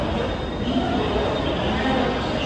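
A Delhi metro train on the Violet Line runs steadily, with a continuous close rumble and rushing roar inside the carriage and faint voices beneath it.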